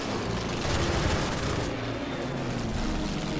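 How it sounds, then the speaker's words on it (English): Fighter planes strafe in the wartime strategy game Order of Battle, a dense continuous rattle of gunfire and rumbling blasts, steady and fairly loud throughout with no talking. "we still have a couple of fighters that can strafe"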